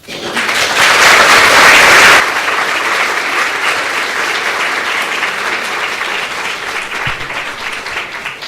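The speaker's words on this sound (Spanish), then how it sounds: "damos la bienvenida a Beatriz Díaz Pérez con un fuerte aplauso" An audience at a social services conference in Asturias applauds loudly to welcome a speaker, a dense burst of clapping that swells strongly for the first two seconds, then settles into steady, sustained applause that carries on to the end.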